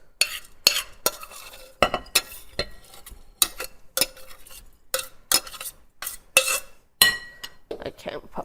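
Cooled cooked quinoa is tipped and scraped into a bowl with a utensil, giving a run of close, irregular clinks and knocks against the bowl, about a dozen sharp scrapes and taps over several seconds.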